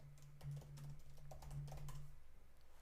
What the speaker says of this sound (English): if I type git log